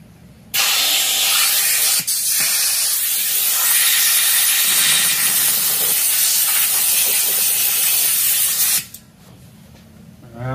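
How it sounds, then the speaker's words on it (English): Compressed air blasts steadily into a threaded hole being cleaned out before new threads are cut, a loud continuous hiss that starts abruptly, runs about eight seconds with one brief dip, then cuts off, with no talking. "Take a little bit of compressed air and blow that out."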